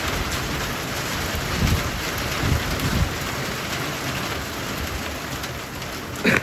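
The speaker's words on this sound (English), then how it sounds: "It's been raining most of the day." Steady rain pours down during Hurricane Milton in a dense, continuous hiss, with a few heavier drips and thumps landing close by.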